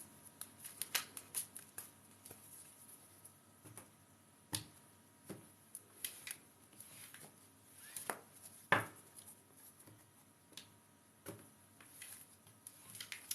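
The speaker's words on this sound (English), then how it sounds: "let me take my Old Faithfuls and shuffle these cards. Give them a good old shuffle." A deck of reading cards shuffled by hand during a live card reading session, faint irregular riffles and snapping card flicks scattered through a quiet room, with no talking.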